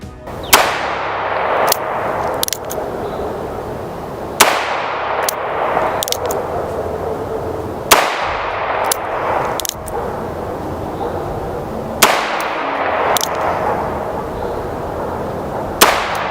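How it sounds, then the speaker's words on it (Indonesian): Cartridges being loaded into an S&W 351PD .22 caliber revolver give a series of sharp metallic clicks and clacks, about a dozen spaced across the span, close and crisp over a faint background hiss. "Dan berikut cara pengisian peluru pada revolver SNW model 351 PD ini."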